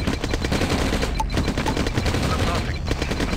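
Rapid bursts of automatic gunfire from units in Command & Conquer: Red Alert crackle continuously and densely, with a voice talking over the battle.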